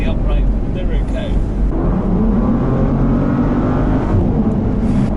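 A 2019 Bentley GTC First Edition engine gives a steady, grunty drone from inside the car, loud and continuous, with wind and road noise mixed in under a brief voice.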